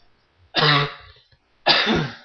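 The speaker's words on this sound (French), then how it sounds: "que je suis tanné de tousser" Two short, harsh coughs about a second apart, close and fairly loud, with quiet in between.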